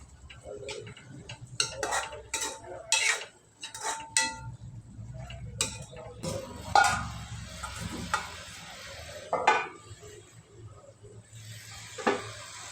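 A mixed vegetable curry of cluster beans, capsicum and brinjal being stirred in a pan: irregular spoon taps and clinks against metal over a soft sizzle, close and unvoiced.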